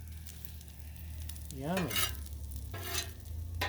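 Gnocchi sizzles on a Blackstone griddle with garlic, a soft steady frying hiss beneath a brief spoken word and a rising, wavering squeal.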